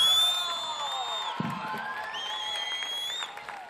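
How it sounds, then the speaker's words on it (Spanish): Crowd at a drag queen gala in Telde cheering, whooping and applauding, a dense, steady wash of voices and claps with whistling shouts throughout. "Fuerte el aplauso para Petaceta."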